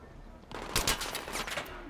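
Gunfire in Battlefield 3 co-op play, a brief flurry of rapid shots lasting about a second, moderately loud against a low background.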